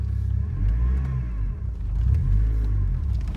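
Manual car pulling away in first gear, a steady low engine rumble rising as it accelerates, close and continuous with no voices.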